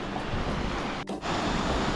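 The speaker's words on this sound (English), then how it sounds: "Wow, look at this waterfall." Rushing water of a three-tier waterfall roars steadily and broadband, loud and close, with a brief dip in the middle before the torrent resumes.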